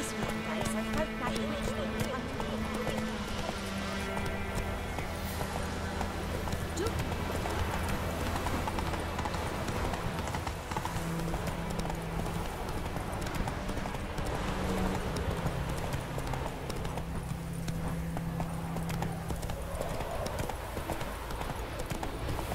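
A horse gallops in the open world of The Witcher 3, its hooves drumming in a steady, continuous clip-clop rhythm. Game music and a talking voice sit over the hoofbeats throughout.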